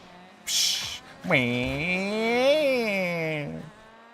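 A voice mimics a revving car engine during a Rocket League esports broadcast: a short hiss, then a long, wavering, droning vocal tone that rises and falls for about two seconds before cutting off.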